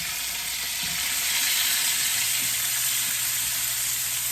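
Chuck eye steak sizzling in butter and olive oil in a pan, a steady, bright frying hiss throughout, with a few soft low clinks and scrapes underneath.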